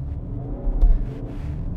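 A 2019 Skoda Octavia Estate vRS 2.0 TDI pulls away hard from a standstill. Its low diesel rumble swells into a brief surge of engine noise and then settles back to a steady drone, with no voices.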